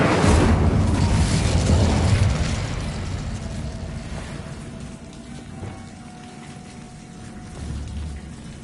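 Incendio fire spell in Hogwarts Legacy, a loud roaring whoosh of flame that crackles like heavy rain, then fades over several seconds into a quieter low rumble.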